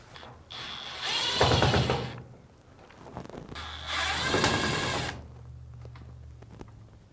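A power screwdriver removes Phillips screws from the back of a Samsung washing machine, giving two separate whirring, ratcheting bursts of a couple of seconds each with quiet pauses between them.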